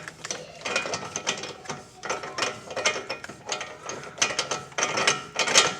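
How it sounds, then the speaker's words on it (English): A nut turned onto the front wheel bearing of a BMW 325i during a bearing replacement, giving close, repeated ratcheting clicks in short uneven bursts with small pauses between pulls and no talking. "So okay, so we're gonna go ahead and put on the nut. Now we'll just thread it in."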